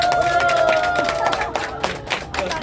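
Scattered clapping from a small group at a plaque-unveiling and first-anniversary ceremony, uneven and brief, with a sustained tone and some background voices underneath.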